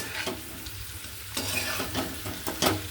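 A mango vegetable curry being mixed in a pan, a few close scraping strokes of the spoon against the pan over a faint sizzle, with no one speaking.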